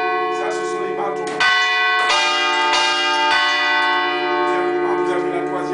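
Hammers strike the cathedral bells of Notre Dame de Basse-Terre, a loud series of ringing, overlapping peals with long sustained tones, three or four strokes spaced about a second apart.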